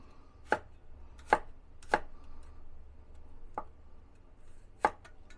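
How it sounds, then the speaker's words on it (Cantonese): A knife slices garlic cloves on a cutting board, giving five separate sharp chops spaced irregularly about half a second to over a second apart, crisp and close with a quiet background. "所以切片。 蒜片啊。"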